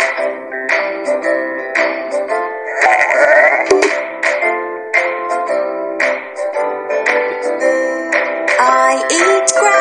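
Cartoonish sheep bleats in a children's animal song, a series of rhythmic, musical baa calls repeating alongside a bright backing melody, loud and close throughout.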